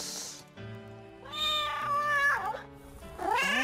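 A cat meowing several times in a row, the drawn-out meows rising and falling in pitch, close and clear with no talking over it.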